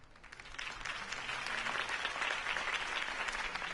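In Batman: The Telltale Series, a crowd applauds after Harvey Dent's campaign speech, many hands clapping in a steady, swelling roar that holds evenly for several seconds.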